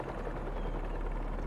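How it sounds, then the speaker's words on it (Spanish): Helicopter rotor blades in Marvel's Spider-Man 2 give a steady, dense low thrumming drone that stays loud and constant across the short stretch, with no voices. "Las palas de un helicóptero."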